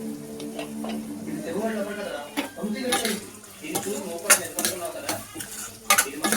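Bangalore-style chicken sukka fries in a pan while a spoon stirs it, producing repeated metallic scrapes and clinks over a light sizzle, with someone talking throughout.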